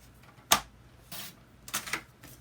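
A paper cutter or trimmer slicing cardstock to standard size for a handmade greeting card: a sharp snap of the blade followed by two softer sliding swipes, close and fairly quiet, with no talking.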